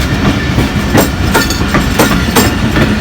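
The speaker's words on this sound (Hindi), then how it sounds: "ये अभी कराची से आ रहा है, पता नहीं कौन सा गाड़ी होगा, शायद पाकिस्तान एक्सप्रेस होगा" A passenger express train from Karachi pulls into Tando Adam railway station, a loud steady rumble with rhythmic clickety-clack of wheels over rail joints repeating about every half second, close by.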